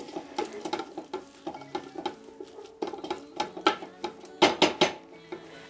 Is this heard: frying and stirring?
yes